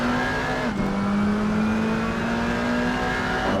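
BMW GT4 race car in a sim racing game accelerating hard out of a corner at Silverstone, engine note rising steadily and loud with a brief dip at a gear change, continuous and close throughout.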